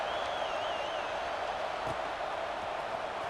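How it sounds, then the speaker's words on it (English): A packed football stadium crowd buzzes steadily during a tied fourth-quarter game, a dense continuous roar that holds at an even level with a faint whistle-like tone briefly rising above it. "this crowd is buzzing after that last score"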